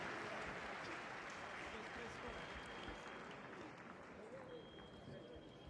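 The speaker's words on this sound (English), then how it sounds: "Generous round of applause from the crowd here." A crowd at a fencing match in Turin, Italy, applauds in a broad, steady roar of clapping that fades slightly toward the end, with a faint voice and a thin high tone in the background.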